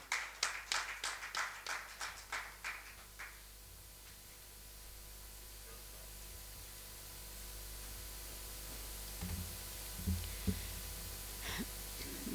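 A short run of about ten evenly spaced handclaps, fairly close and fading, opens at an Urdu poetry recital, then gives way to steady hiss with a few faint scattered knocks.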